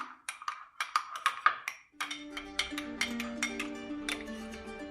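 A spoon rapidly clinks against a cup while stirring instant coffee mixed with a little water, giving a quick run of bright, close taps that soften as sustained tones come in behind them.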